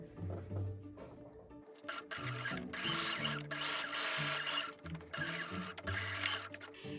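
A sewing machine stitching a placket onto a dress sleeve, its motor whirring in several bursts of fast rhythmic needle chatter with brief pauses and changes of pitch between runs, close and without voices.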